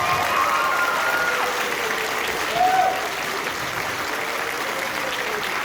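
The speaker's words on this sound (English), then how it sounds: "One more round of applause for the jazz band." A school concert audience applauds the jazz band at an end-of-year concert, a dense, sustained crowd clapping with a brief swell near the middle, with faint cheering under it.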